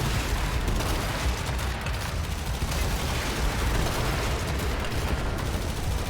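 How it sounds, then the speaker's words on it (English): Arc gun firing continuously in the Warframe video game, a dense, loud crackling barrage with rumbling booms that runs unbroken throughout, with no talking. "Out with the arc gun"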